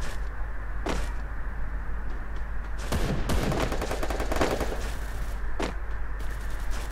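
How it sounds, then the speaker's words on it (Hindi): Gunfire in the mobile battle game Free Fire: several sharp, loud bursts of shots crack out, a short one near the start, a dense rattling volley in the middle and another single burst toward the end, over a steady background hum. "वाह वाह फायर हो रहा है।"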